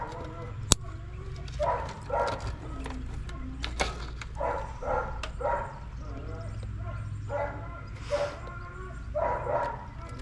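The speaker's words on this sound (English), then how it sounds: "that dog in there is throwing a fit because I'm out here" Young dog barking indoors, heard through a wall from outside, a series of muffled yaps and whimpers in irregular bursts over a low steady mechanical hum, with someone talking nearby.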